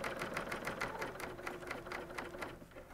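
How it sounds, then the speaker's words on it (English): A coverstitch serger machine sews a bag seam while its blade, raised high, trims off the fabric edge, giving a fast rhythmic mechanical chatter that stays close and steady for about three seconds with no voices. "That blade comes up nice and high, and it will just make quick work of trimming that."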